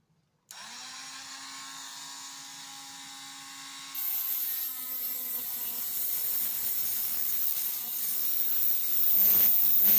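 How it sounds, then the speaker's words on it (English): A Dremel rotary tool whines at high pitch as it cuts a plastic Nerf Shellstrike blaster part to length, starting abruptly, then growing harsher and louder as the cut bites in, with no talk over it. "I'm going to do that with a Dremel, because I want this to get nice and even"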